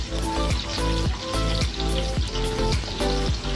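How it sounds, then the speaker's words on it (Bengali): Fish coated in mustard oil sizzles loudly in a pan, a close, continuous crackle broken by a few sharper pops and spatters, with no voices. "মাছটা ভাজা হতে থাক"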